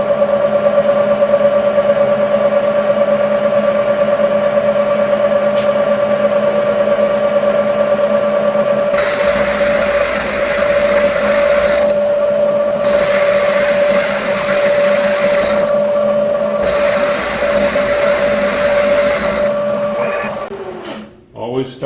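A manual milling machine runs with a steady tonal whine and mechanical hum that holds for a long stretch, then winds down and stops near the end.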